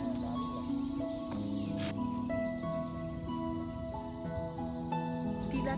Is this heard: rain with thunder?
no